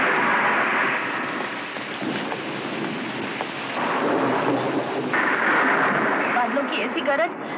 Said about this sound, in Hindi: बादलों की ऐसी गरज, ऐसी बिजली तो मैंने जिंदगी में नहीं देखी।